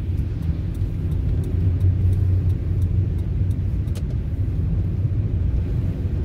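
A car drives along a city street, with a steady loud engine and road rumble all the way through and faint light ticks above it.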